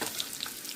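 Mustard seeds, curry leaves and garlic crackling in a spoonful of hot oil for a tadka, a brief close bright sizzle and spatter.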